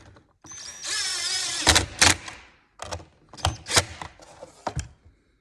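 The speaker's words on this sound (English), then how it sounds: "we're gonna tighten up these screws. These are just going into plastic, so don't get crazy with the impact here" An impact driver drives screws into plastic on a 2021 Ski-doo 850 Turbo glovebox install, with a sustained whirring run followed by several short, close bursts of buzzing and clicking.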